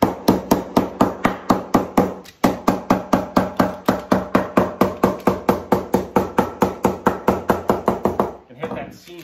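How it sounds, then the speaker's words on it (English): A regular hammer pounds a folded seam of stainless steel foil flat, striking in a fast, steady run of sharp, loud blows that stops briefly once and ends with a short scrape. "what I do is kind of flatten that down, take a regular hammer"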